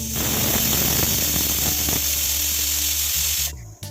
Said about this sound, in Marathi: कुकरचं झाकण लावूया आणि दोन शिट्ट्या करून डाळ शिजवून घेऊया